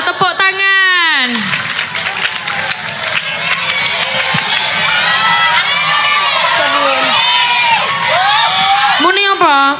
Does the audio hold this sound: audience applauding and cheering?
yes